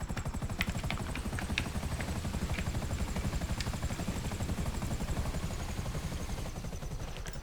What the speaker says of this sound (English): So I usually land my helicopter right down here when I get the boats here.